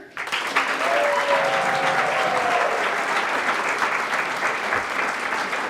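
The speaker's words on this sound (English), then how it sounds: "Big round of applause for Stephanie Beach, our communications coordinator" Warm round of applause from the crowd at the 2024 Women in Business Expo, dense clapping rising quickly and holding steady for over five seconds, with a faint whistle early on.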